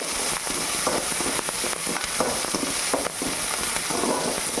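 Dried red chillies and small onions frying in oil for a mutton curry, a dense continuous sizzle with fine crackling pops throughout, close and steady with no voices.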